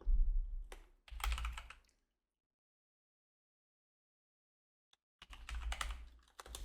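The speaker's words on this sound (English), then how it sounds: "I'm pressing Shift and F" Typing on a computer keyboard while working in Blender: two short bursts of clicking keystrokes near the start, a few seconds of silence, then another rapid flurry of key presses at the end, close and clear.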